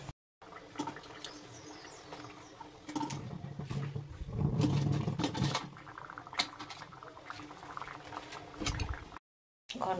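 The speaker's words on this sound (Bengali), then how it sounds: "মাছের টকটা তো ফুটছে" A pot of sour fish curry made with shilbhaka fish bubbles at a steady boil, a soft continuous gurgling patter that swells briefly in the middle and stays fairly quiet throughout.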